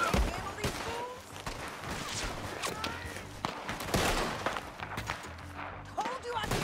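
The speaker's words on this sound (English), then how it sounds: "Told you I could shoot a gun." Gunfire in a Red Dead Redemption 2 Chapter III shootout rings out in a dense burst of cracks and thuds, repeated shots and impacts layered over game music and ambient noise, with voices talking in places.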